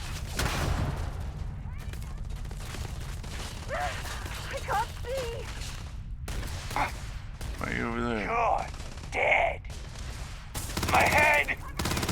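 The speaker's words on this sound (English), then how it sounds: "that turret up there is still firing" Turret gunfire in the video game Starfield: rapid bursts of shots rattle throughout a firefight, with voices speaking over the shooting at several points.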